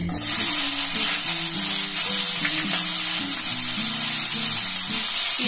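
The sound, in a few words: onions frying in a pan for chilli chicken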